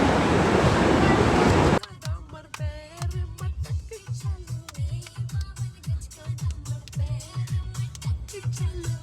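Strong wind roars outdoors as a loud, steady broadband rush over a microphone for the first couple of seconds, then cuts abruptly to rhythmic music.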